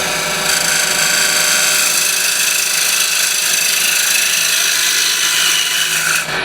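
A ball gouge cuts wood on a spinning lathe while a woodturning gift is shaped, giving a loud, continuous scraping whir close by, steady for several seconds before easing off at the end.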